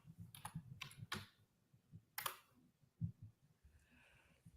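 Scattered keyboard clicks in a quiet room, a few sharp taps spaced irregularly over a low background murmur.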